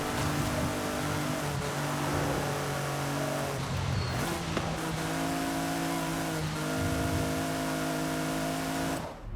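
An S1 class car's engine in the Forza Horizon 5 racing game, droning loudly and continuously through corners with steady pitch shifts as revs rise and fall between gear changes, with no talking.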